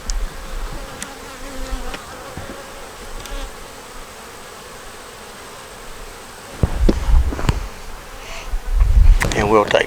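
Bees buzz in a steady drone close by as a nuc is moved into an eight-frame hive, with louder knocks and handling noises picking up toward the end.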